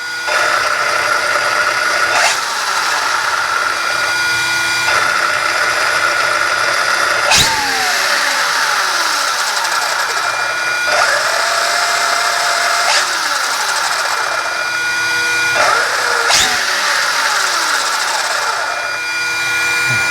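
A 2400KV brushless electric motor in an ARRMA Limitless RC car spinning up, a loud close whine with pitch sweeps and repeated rev-ups and drops, sustained for about twenty seconds.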